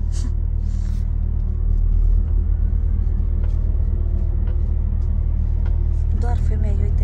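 A truck's engine rumbles in a low, steady drone while driving on the road near Sevilla, heavy and loud throughout, with people talking over it.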